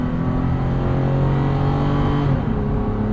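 A 2017 Toyota 4Runner TRD Off-Road downshifts from inside the cabin, its engine drone and whirring drivetrain holding steady before a brief change in pitch near the end.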